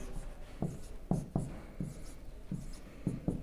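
A teacher writes numbers on a board, with about nine sharp taps and scrapes of chalk or marker arriving in an uneven rhythm, close and clear with no talk.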